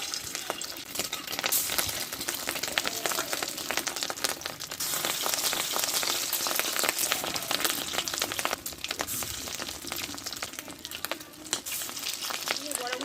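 Fish roe kofta balls coated in egg fry in hot oil in a pan, making a continuous soft, rain-like crackle and sputter that runs steadily close by.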